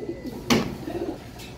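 Pigeons in a racing pigeon loft give a brief close coo, with faint clatter and other soft bird sounds around it.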